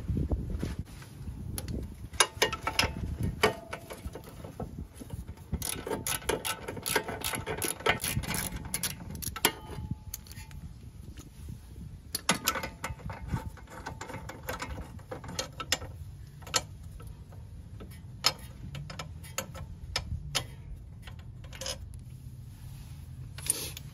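Repeated ratcheting clicks and metallic rattles come from a wrench working a 17 mm bolt on the suspension of a 1989–97 NA Mazda Miata MX-5, in irregular bursts up close throughout.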